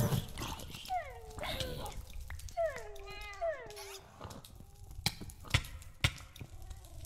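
Wolf-like dog whimpers and yelps from dogs in the Minecraft video game, several short falling cries in the first half, followed by sharp clicks and hits, all under a low game background.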